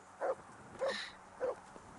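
A dog in the Kingdom Come: Deliverance video game gives three short, evenly spaced barks or yips, faint against a quiet background.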